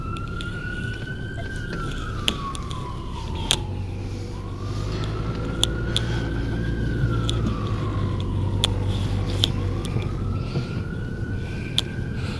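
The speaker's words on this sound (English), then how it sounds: "There's an ambulance behind me." An ambulance siren wails in long rising and falling sweeps over steady traffic rumble, staying loud and close throughout, with occasional sharp clicks.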